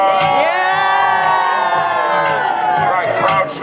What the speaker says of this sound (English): Everybody make some noise!